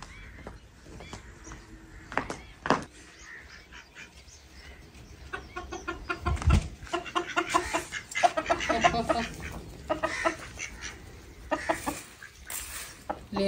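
Chickens and a rooster in a village farmyard outside a mud house in rural Pakistan, with ducks roaming nearby: scattered clucks and squawks, close and fairly loud, growing busier midway with sharp bursts among quieter moments.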